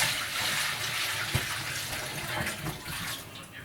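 Liquid drained from beef jerky preparation pours through a colander into a kitchen sink, a soft steady splashing wash with a few small knocks, fairly quiet and without talk.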